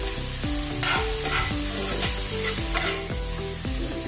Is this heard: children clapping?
no